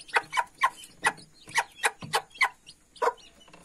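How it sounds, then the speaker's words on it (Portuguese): Small bantam hens cluck close by in a quick, uneven series of short soft calls, with no voices over them. "Pra quem não conhece, é o galizé, né? Que a raça dela é pequititinha."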